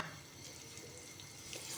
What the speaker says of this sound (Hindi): अब हम इसमें 1 प्याली सूजी डाल देंगे